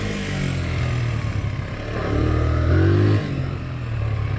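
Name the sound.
1983 Honda XL100 motorcycle engine running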